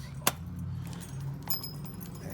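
Aluminum wartime keys and other metal keys jangle faintly in a shop, with one sharp clink near the start and light rattling under a steady background hum.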